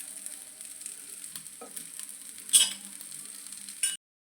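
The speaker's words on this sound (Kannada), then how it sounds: "ಇನ್ನೊಂಚೂರು ಎಣ್ಣೆ ಹಾಕ್ಕೊಳ್ತೇನೆ, ಇನ್ನು ಅದರಲ್ಲೇ ಬೇಯಲಿ ಅದು" A potato sandwich frying in oil in a pan, making a steady close sizzle with a few brief louder crackles and spatters, no talking.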